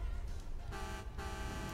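A car horn honks twice inside GTA V Online, steady held tones broken by a short gap, sounding over a continuous low game and engine backdrop.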